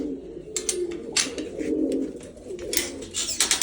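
A breeding pair of pigeons coo repeatedly in soft, throaty bursts, close by, with a few brief rustles and flutters between the calls.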